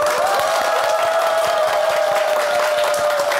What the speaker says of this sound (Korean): 큰 박수로 강연을 청해 보도록 하겠습니다